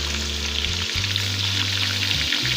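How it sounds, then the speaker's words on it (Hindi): Onion and green chilli paste fries in a pan, giving a loud, steady sizzle with a low hum beneath it. There are brief breaks as it is stirred, and no talk. "अब ये प्याज और सब्ज़ मिर्ची का पेस्ट शामिल कर दें।"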